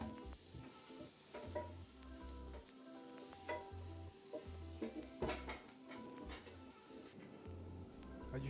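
Kafta kebab meat sizzles in a pan while being turned, a soft steady frying hiss broken by light clinks and scrapes of utensils, quiet and close.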